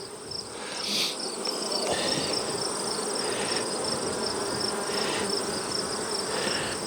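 Honey bees buzz steadily inside an open queenless hive, a dense close drone that stays loud and even throughout, with no talking.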